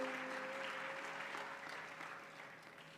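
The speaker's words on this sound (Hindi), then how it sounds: "ताली तो बजा रहे हो," An audience at a Hindu religious katha discourse claps in steady, sustained applause throughout, fairly soft and even, with a faint tonal hum beneath it.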